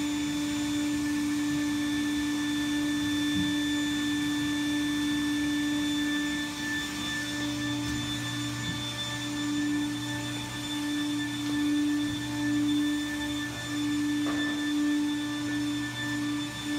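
Cellulose insulation blowing machine running steadily while dense-packing a wall cavity, a continuous loud motor whine with a strong steady hum and faint rattling, no talking.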